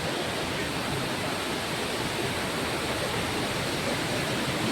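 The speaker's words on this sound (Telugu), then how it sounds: "ఇది దాదాపు 1000 అడుగుల ఎత్తు నుంచి ఈ కిందకి వస్తుందంట" Ravana Falls, water plunging from about 1000 feet, heard as a steady, dense roaring hiss that stays loud and unchanging throughout, with no voices.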